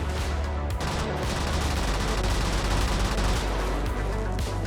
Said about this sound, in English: the red laser machine gun